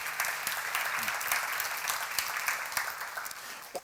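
A seminar audience at a church lecture claps together in a steady, sustained round of applause that fills the room, fading slightly toward the end.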